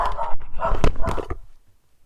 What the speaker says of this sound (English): Oh god, Lola's barking